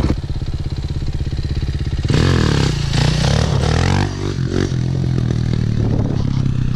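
Motorcycle engine revving hard while the rider practises wheelies, a steady close idle jumping to a loud sustained roar with rising and falling throttle.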